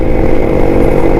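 A 1993 Suzuki Shogun 110cc two-stroke motorcycle with a Japanese carburettor runs loud and close, a steady buzzing engine drone with no breaks.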